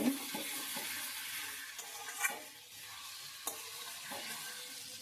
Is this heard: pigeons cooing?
no